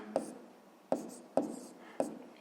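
A pen writes on paper for a sixth-grade maths exercise on fractions, four short distinct scratchy strokes spaced about half a second apart, close and fairly quiet, with no talk over them.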